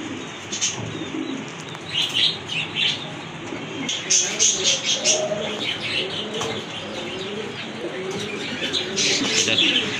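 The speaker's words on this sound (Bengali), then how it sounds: "আরেক জোড়া কবুতর এখানে দেখেন" Several pigeons coo in low, throaty bursts close by at a pigeon farm, mixed with small chirps, a brief wing flutter and faint voices in the background.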